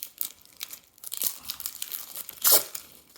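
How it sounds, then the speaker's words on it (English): Arlo Pro 4 XL spotlight cameras are unwrapped from their packaging, giving close, irregular bursts of crinkling and tearing plastic with a louder rip near the end. "we just need to unwrap these cameras to be able to put the new batteries"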